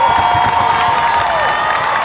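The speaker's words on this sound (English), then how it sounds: "The Panther crowd comes to its feet, cheering on their girls." Roaring home crowd cheering for the Panthers girls' basketball team in a championship game, a loud, sustained wall of voices with whistling and shouts filling the gym.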